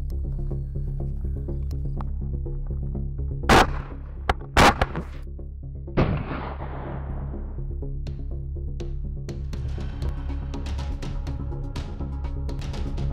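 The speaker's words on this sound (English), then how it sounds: "I'm gonna shoot two into this window" A short-barreled AK-47 fires single sharp, loud shots into an armored vehicle's window, two close cracks a second apart and a third after, each with a fading echo, over steady background hum.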